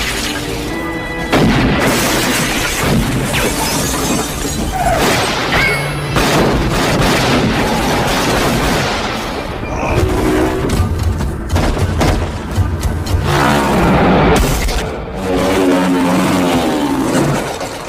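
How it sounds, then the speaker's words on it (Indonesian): A film gunfight with loud, near bursts of gunfire, booming impacts and crashing hits following one another in dense, chaotic volleys, punctuated by brief lulls, with no talking. "Sehingga baku tembak sengit, tak dapat lagi dihindari"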